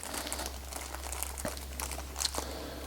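Plastic packaging crinkles as small lock parts, springs and tabs for a late-90s GM ignition lock cylinder are pulled out, a quiet close-up rustle with a few sharper crackles.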